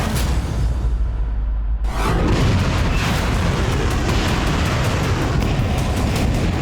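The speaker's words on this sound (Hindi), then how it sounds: "रूस की इस्कंदर मिसाइल आकर गिरी और खार्किव में यूक्रेनी सेना का हेडक्वार्टर मलबा बन गया" A heavy, booming blast from an Iskander missile striking a Ukrainian army headquarters in Kharkiv, rumbling loud and broad after a brief quieter lead-in, then sustained roaring debris noise through the rest.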